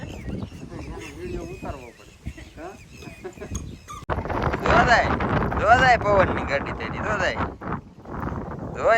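Strong wind buffets the microphone in loud, gusty rushes, growing harsher partway through while people talk and call out nearby.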